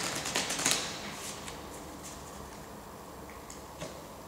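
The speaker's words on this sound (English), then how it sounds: "The remaining cards, shuffle them however you please and set them aside." Someone shuffles the playing cards of an Audatia action deck, giving soft papery riffles and clicks that come densely at first, then thin out into a few scattered ticks.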